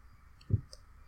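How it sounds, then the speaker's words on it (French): A single soft computer mouse click, close and quiet, closing a window in the Blender 3D software, with faint background hum and no talking. "Pour s'en débarrasser, on clique à côté."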